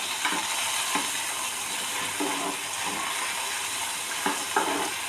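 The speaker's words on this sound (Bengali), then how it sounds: "এখন আমি এটার সাথে দিয়ে দিচ্ছি চিংড়ি মাছ।" Shrimp sizzle in a hot frying pan for a pointed gourd and eggplant stir-fry. A steady close crackle of frying runs throughout, punctuated by several soft scraping stirs.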